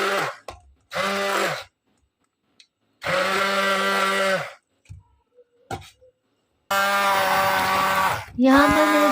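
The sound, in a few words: blender blending boiled rice for kheer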